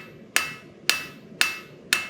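A blacksmith's hammer planishing hot metal on an anvil strikes four sharp, ringing blows at a steady, unhurried pace, each ring decaying quickly, close and loud with no talk.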